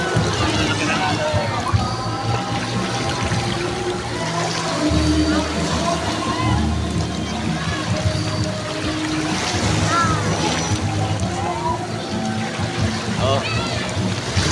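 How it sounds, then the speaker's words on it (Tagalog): Large waves splash and wash at a beach resort swimming area, a steady broad churn of surf close by, with people talking and calling out over the water throughout. "Lalaki ng alon, no?"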